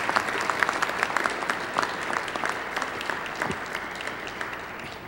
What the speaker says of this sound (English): Another round of applause for real civil rights pioneers